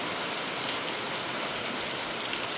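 Steady morning rain falls over a village, a dense, even hiss of drops that stays close and constant with no voices throughout.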